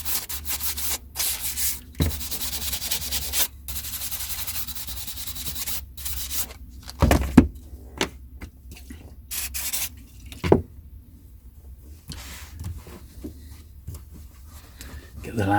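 Large format book covers being rubbed and cleaned of residue, giving soft, continuous scrubbing and wiping strokes with occasional light taps and handling knocks at close range.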